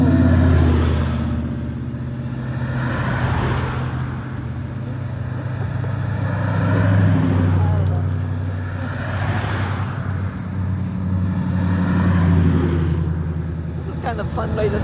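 An old truck and classic cars on a Saturday-morning tour along Old 27 in Gaylord, Michigan roll past one after another, engines swelling and fading in repeated waves, with people talking throughout.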